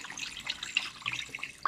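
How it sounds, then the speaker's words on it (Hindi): Water is poured steadily into a pot of raw beef for a karahi, a short, continuous splashing and gurgling pour at close range. "इसमें मैं डालूँगी पानी"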